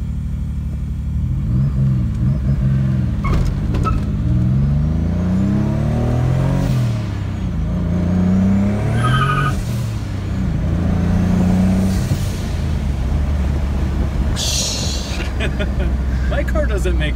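Turbocharged car with over 500,000 miles accelerating hard, engine rising and falling through gears in a loud close-up roar, with people talking inside the cabin.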